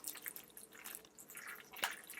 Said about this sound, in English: As you can see, water is getting everywhere.